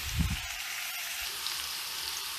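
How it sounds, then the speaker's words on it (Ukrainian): Onions frying in oil in a pan for shakshuka, a steady close hiss of sizzling throughout with a brief low clatter near the start. "От у нас цибуля гарно смажиться."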